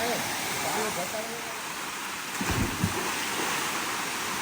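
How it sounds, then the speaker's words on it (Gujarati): Stream water flows steadily down past a picnic spot in nature, a constant broad rushing wash like wind or surf, with a couple of low thumps midway. "ઉપરથી પાણી હાલ્યું આવે અને આ સાઈડ જાય છે બધું"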